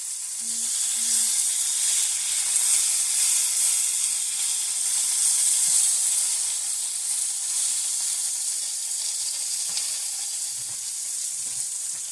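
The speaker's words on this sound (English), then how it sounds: "I'm going to just saute that a little bit" Spinach sauteing in a pan gives off a steady, bright sizzle and hiss throughout, with a few soft low knocks near the start and the end.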